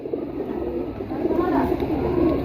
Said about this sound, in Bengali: এটা হলো ওর বাসার কালিজিরা কবুতর